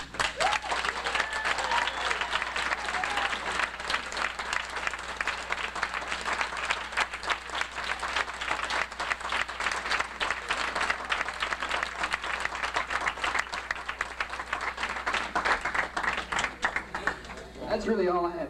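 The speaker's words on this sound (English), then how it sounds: "So I think we ought to give Dave, Al, and Sam a round of applause." Sustained, dense applause from an audience at a marching band and swing choir event, many hands clapping steadily and fairly close for the whole stretch, easing slightly near the end.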